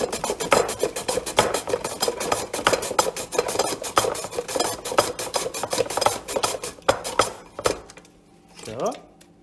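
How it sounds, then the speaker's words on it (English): Raw beetroot, skin still on, is grated by hand into a bowl, giving a steady run of close, loud rasping strokes. The scraping stops near the end, leaving a short soft clatter. "And then you take the beet with the skin and grate it"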